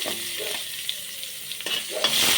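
Onions sizzle in a pan while a utensil stirs and scrapes them, the frying hiss growing louder toward the end.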